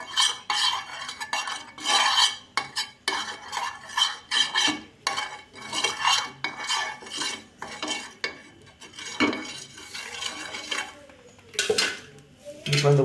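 A utensil stirs egg omelette mixture in a bowl, giving repeated close scraping and clinking strokes in an uneven rhythm, with faint kitchen sounds and no talk.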